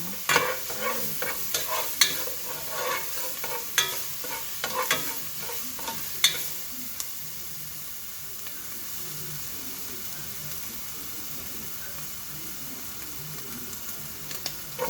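Garlic sizzles in a pan while being stirred, cooked for miswa with sardines. Scraping stir strokes repeat over a soft frying hiss that quiets midway, and stirring resumes near the end.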